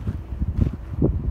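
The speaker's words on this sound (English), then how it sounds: "it's really windy" Gusty wind buffets the microphone with low rumbling bursts that rise and fall, fairly loud and close.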